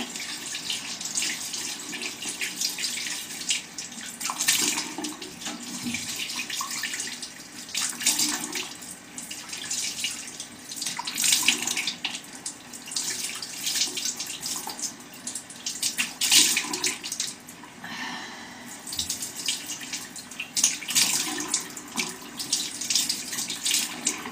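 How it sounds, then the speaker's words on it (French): Running tap water splashes as a face is rinsed at a sink, a steady close hiss broken by uneven splashes and hand movements, with no speech. "Et on rince."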